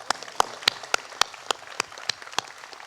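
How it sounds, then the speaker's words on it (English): At a college commencement, about ten sharp, evenly spaced claps ring out close by in a steady rhythm, with each crisp smack standing clear above a faint background. "Let's give him a round of applause."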